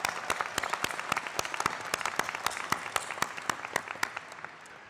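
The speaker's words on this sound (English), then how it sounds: "round of applause" Applause from a large graduation crowd at RMIT University's 2022 ceremony in Marvel Stadium, a dense, steady patter of many hands with sharper individual claps standing out, sustained throughout at moderate distance.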